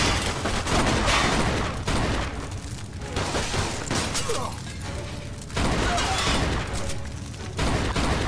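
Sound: gunfire from Thompson gun in video game Mafia 2

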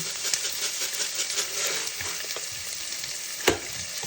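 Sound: ginger sautéing in a pot for chicken soup

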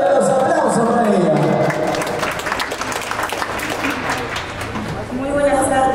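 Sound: applause

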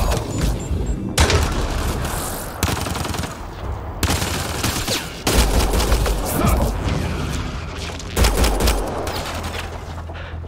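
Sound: gunfire in Mass Effect Andromeda video game

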